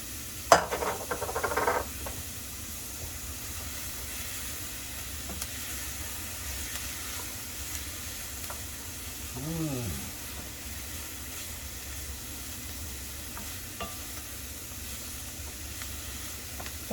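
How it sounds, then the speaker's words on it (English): Garlic sizzles in a pan and is stirred while making a homemade spinach quiche. A few utensil clatters come first, then a faint, steady hiss with soft scraping continues throughout. "I'm going to throw in my garlic. Mix that all up."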